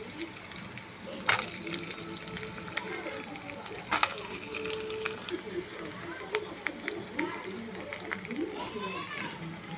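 Potato pieces fry in a pan with green chillies and curry leaves, a steady low sizzle with occasional stirring clatters while someone talks and children's voices are heard in the background.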